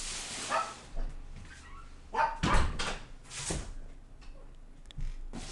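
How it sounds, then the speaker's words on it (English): A dog barks several times indoors, short sharp woofs and a few whimpery yips spread across a few seconds, moderately close, with muffled background noise and no clear talk over it. "Your dog barking at somebody?"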